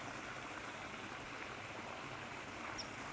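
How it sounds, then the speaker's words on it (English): Water from a jacuzzi spills over an infinity edge into an overflow and a garden pool, producing a soft, continuous rush and trickle throughout, with one faint bird chirp high above the flow. "And the noise of running water and the birds."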